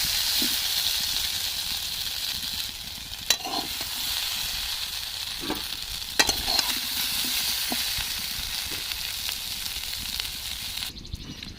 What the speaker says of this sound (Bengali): খুব সুন্দরভাবে লাল লাল করে ভেজে নেব আলুগুলো